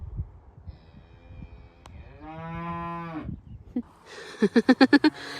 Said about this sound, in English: I think they're beef cattle.